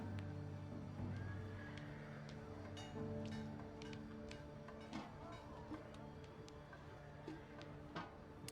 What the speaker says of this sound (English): The horses continue to thunder around the course